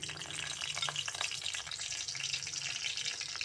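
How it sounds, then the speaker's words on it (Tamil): Cumin seeds spluttering in hot oil, a quiet, close, continuous sizzle with light crackling, no talking. "சீரகம் நல்லா பொரிஞ்சிருச்சு"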